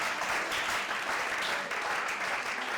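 Church congregation at a Sunday worship service breaking into sustained, dense applause for the Lord, steady and loud throughout with no pauses, a few voices faintly mixed in.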